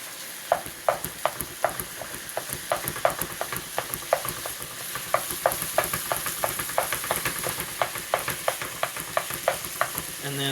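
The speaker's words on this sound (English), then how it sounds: "as we're browning our meat" Meat browns in a pan with a loud, continuous sizzle, punctuated by regular sharp taps and scrapes from a utensil stirring it, with no talking.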